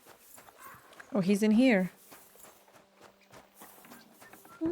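Horse hooves clip-clop softly in Kingdom Come: Deliverance 2, a steady light walking rhythm under a brief loud voice and background game ambience.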